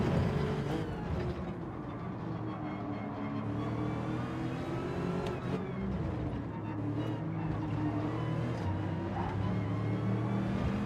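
A McLaren race car engine in Gran Turismo 7 drones at a steady, sustained pitch, running flat out without a break, loud and continuous with no voices over it.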